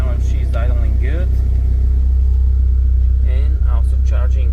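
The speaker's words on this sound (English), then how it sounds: "Alright, now she's idling good" A Mitsubishi Eclipse GSX engine under restoration idles with a loud, steady low rumble and even hum, while someone talks over it.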